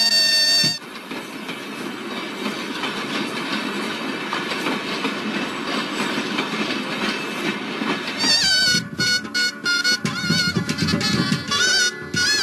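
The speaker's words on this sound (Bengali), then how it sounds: "এখনই ট্রেন আছে, এই ট্রেনে চলে যাবো" A train running on rails, a loud continuous rumble with rhythmic clickety-clack from the wheels, growing harsher and more metallic toward the end, with no voices.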